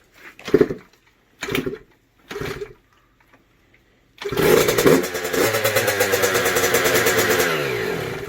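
A Yamaha YZ65 two-stroke dirt bike with a freshly rebuilt top end takes three short kick attempts, then fires and settles into a loud, close, buzzing idle with slight revs.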